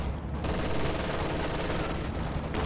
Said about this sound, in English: No, that was mechanized artillery.